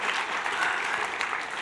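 An audience in a speaking showcase breaks into brisk applause, a dense, even patter of many hands clapping close and steady throughout.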